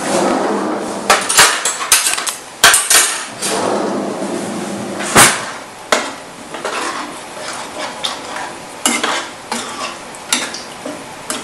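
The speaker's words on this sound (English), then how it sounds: "stir it occasionally because the ingredients will settle to the bottom" A warming sauce thickened with arrowroot flour being stirred in a pot, with loud, irregular clanks and scrapes of a utensil against the metal pot repeating throughout, close up.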